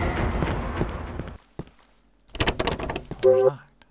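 A locked door being tried in the horror game Cry of Fear: a few short rattling clunks of the handle after a stretch of louder sound and a pause, ending in a brief tonal sound.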